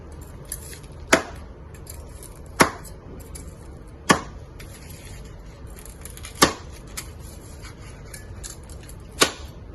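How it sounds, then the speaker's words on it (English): A knife chops through a pork chop for Hainanese pork chop, five sharp isolated cuts spaced a second or two apart, close and crisp against a quiet kitchen background. "Now we shall now cut our pork chop."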